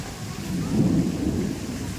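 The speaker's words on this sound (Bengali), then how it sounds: "প্রচুর মানে মেঘ ডাকছে" Deep thunder rumbles and swells during a storm, loud and close, over a constant wash of heavy rain.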